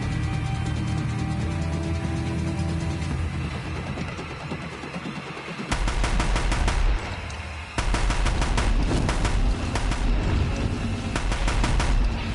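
A huge weapon in the video game Horizon Zero Dawn fires in rapid, continuous bursts, a loud rattling barrage that breaks off briefly and then resumes near the close.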